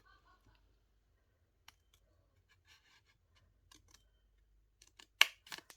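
Scissors snip folded paper scraps for a handmade photo album. A few faint, sparse clicks lead to a louder burst of sharp cuts near the end.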